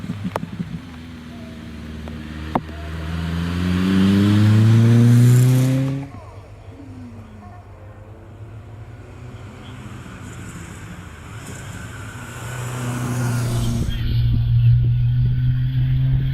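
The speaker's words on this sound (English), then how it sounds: "Andrew Norris just goes by in the 911 Carrera." A supercharged Porsche 911 Carrera with an air-cooled 3.3 engine climbs the Harewood hillclimb course. Its engine revs rise and fall through gear changes as it passes close and loud, fades, then swells again, with faint commentary underneath.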